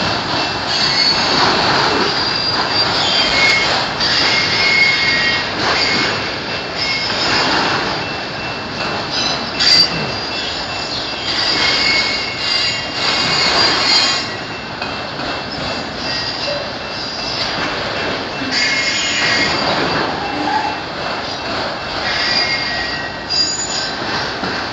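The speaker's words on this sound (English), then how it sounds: "I ain't did a train video in a while" A passing train grinds by for the whole stretch with loud, sustained metallic wheel squeal and rumbling, some clicking of wheels over rail joints, close and continuous with no talk.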